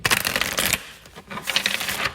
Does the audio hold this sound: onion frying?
no